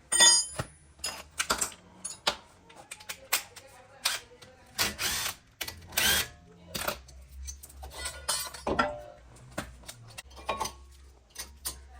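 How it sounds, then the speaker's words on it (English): A 14 mm brake caliper bolt is worked loose on a Nissan Qashqai, giving a close series of irregular metallic clicks, ratchets and knocks with short pauses between bursts. "now I'm trying to remove that caliper ball"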